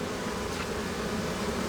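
Bees buzzing at a Flow Hive, a dense steady hum of many insects close by, continuous and fairly soft with no voices.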